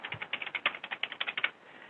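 A quick burst of about fifteen keystrokes clacking on a computer keyboard, close and evenly paced, then silence.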